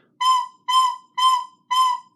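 Four separate breathy recorder notes on the same pitch, each one blown on its own and evenly spaced with short gaps between them.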